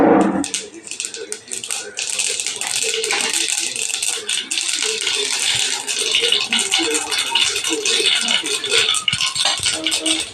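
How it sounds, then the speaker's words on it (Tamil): Mustard seeds and urad dal spluttering in hot oil: a dense, continuous crackling and popping, close and fairly loud, running without a break. "கடுகு உளுந்து பருப்பு போட்டாச்சுங்க, பொரிஞ்சிடுச்சு"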